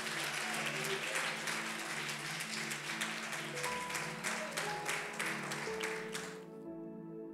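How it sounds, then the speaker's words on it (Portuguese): Sustained applause from a large crowd at a church service, steady and full, over a held organ-like chord, fading out near the end. "aplauda o Senhor bem forte"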